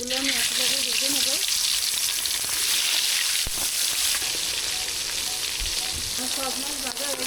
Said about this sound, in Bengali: সব মাছগুলো আমি একসাথে ভেজে নেব।